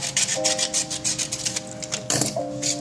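Sanding a small improvised fountain pen part by hand with 320 grit sandpaper, a quick series of close, rhythmic rasping strokes repeating steadily, with a faint tonal hum behind and no talk.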